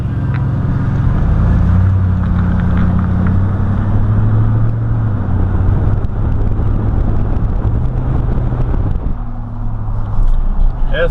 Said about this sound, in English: all we hear outside now is a lot of the General Motors power steering whine